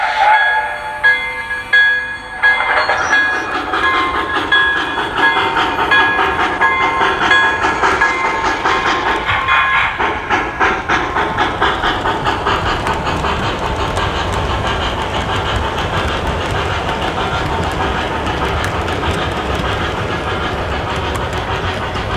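MTH HO gauge model trains, an NYC L-4A 'Mohawk' and J-3A 'Hudson' locomotive, running close by with a steady rolling rumble and rhythmic clickety-clack, starting with a few whistle-like toots before settling into continuous running.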